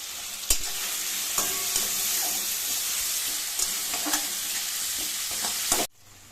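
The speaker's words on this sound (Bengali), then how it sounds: "নেড়ে চেড়ে টমেটোটা গলিয়ে নেবো।" Tomatoes with turmeric sizzle in a pan while being stirred, a continuous close frying hiss broken by occasional spoon scrapes and knocks, ending abruptly near the close.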